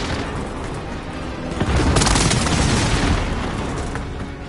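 Airstrike explosions in Call of Duty Warzone Resurgence, a dense rumbling barrage of booms and blasts that swells loudly midway and then trails off, with no talking.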